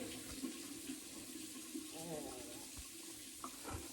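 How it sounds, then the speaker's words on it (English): Warm tap water runs into a sink over a towel, a soft continuous splashing with faint gurgles, quiet and close, with a brief murmur of voice partway through. "taking a towel, a warm towel, kind of get it a little bit running under hot water, warm water"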